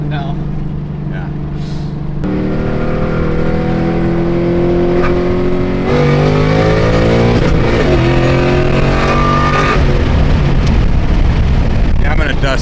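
A Chevrolet Corvette Z06 engine idles and then revs up loudly in steady climbing pulls, held close and dominant, while people talk over it.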